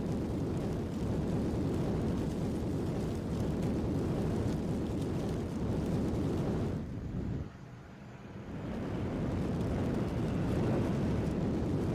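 A Kamov 26 Russian helicopter approaches as a radio drama effect, a broad, steady roaring rumble with wind-like noise that holds loud, dips briefly, then returns just as strong.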